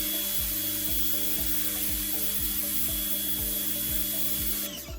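An AR Blue Clean BC2N1HSS electric pressure washer (2300 PSI, 1.7 GPM) sprays a discolored stone, its motor pulsing in a rapid repeating rhythm under a steady hiss, close and continuous until it cuts off at the end.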